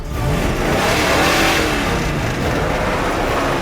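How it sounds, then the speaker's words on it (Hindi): Car engine revved hard, a loud, close, continuous roar that holds steady throughout with a brief swell in the middle. "गाड़ी को रेस कर गाड़ी को।"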